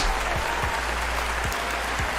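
Steady applause from a live stream audience fills the whole stretch, dense and continuous with a low rumble beneath, with no voices heard.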